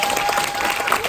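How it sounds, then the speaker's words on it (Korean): A packed seminar audience gives a loud, dense burst of applause, many hands clapping at once, close and continuous for about a second with no talking. "네, 큰 박수 부탁드리겠습니다."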